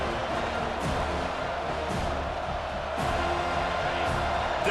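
A stadium crowd in the EA Sports College Football 25 video game roars steadily on a third-down defensive stand, a dense continuous wash of cheering with a few swells.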